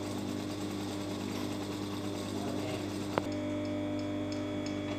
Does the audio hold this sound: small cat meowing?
no